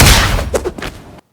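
Spider-Man's E uppercut with an animation cancel hits as a loud opening thump followed by a few quick, punchy impact bursts, then a brief silence and a sharp final hit.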